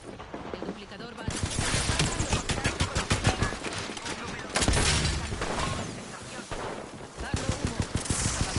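Gunfire in the Apex Legends video game comes as loud, rapid automatic bursts and repeated shots, broken by short pauses, with a voice speaking over the fighting.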